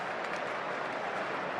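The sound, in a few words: cricket crowd cheering and applauding at Adelaide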